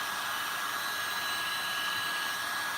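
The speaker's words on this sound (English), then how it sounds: "So that's a fully adjustable heat gun." Adjustable heat gun blowing hot air, a constant close, loud whooshing hiss of the fan with a faint steady whine, unbroken throughout.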